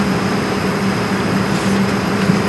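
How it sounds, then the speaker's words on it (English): Steady, loud low-pitched drone of an airplane cabin as the aircraft prepares to take off, a continuous engine rumble with a faint tonal hum and no voices over it. "So I think we're about to take off."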